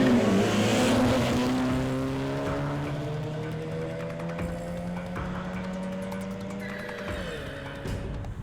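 Cars rev and race away at an illegal night drag race on a dark street, a loud engine whine climbing through gears and fading as it pulls off, then more engines droning with sharp revs.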